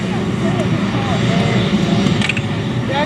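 A-10 Thunderbolt II jet flying at the 2021 Greater Binghamton Airshow, a loud steady engine drone with crowd noise and speech running under it.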